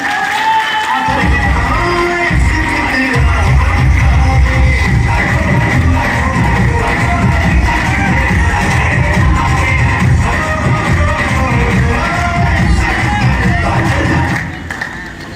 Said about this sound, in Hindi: श्री संजीव कुमार सिंह के लिए एक बार जबरदस्त तालियां।